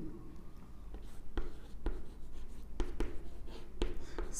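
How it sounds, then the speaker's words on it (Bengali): Pen or chalk writing out a math formula in a short scratching run broken by several sharp taps and strokes, close by with no talk. "ফর্মুলাটা আমি লিখে দিচ্ছি"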